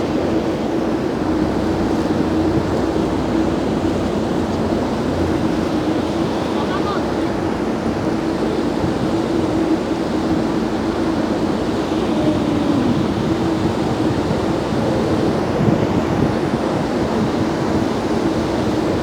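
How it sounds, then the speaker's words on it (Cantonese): Tidal sea water rushes steadily through the Naruto whirlpools at spring tide, heard from a boat as a loud, continuous roar with wind buffeting the microphone and a low engine drone underneath. "真係有漩渦。"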